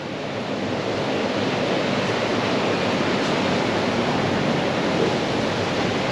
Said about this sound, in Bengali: কিন্তু দেখেন কি বৃষ্টি বাইরে।